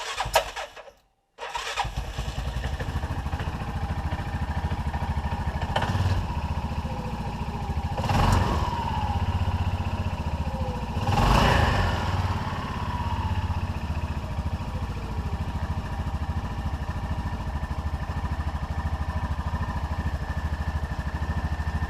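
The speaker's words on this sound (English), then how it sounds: "just start the engine and allow the belt to tension and take up its position" A Hisun UTV engine starts up and runs after a new CVT belt is fitted, idling steadily with several brief revs that rise and fall, close and fairly loud throughout.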